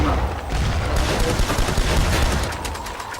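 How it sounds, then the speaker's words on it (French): Grenades explode in a VR zombie training shooter game, a loud dense barrage of booms and gunfire-like bursts rolling together for a few seconds. "des petites grenades, boum."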